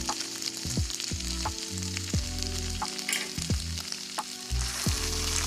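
Ground beef with flour stirred in a hot pan for Cajun orzo, a steady close sizzle broken by repeated scraping strokes of the utensil across the pan, no talking.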